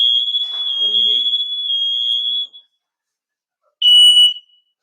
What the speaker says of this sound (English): My smoke alarms are going off.